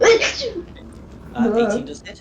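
A single short sneeze at the start, quick and sharp, followed by people talking during a tabletop game session.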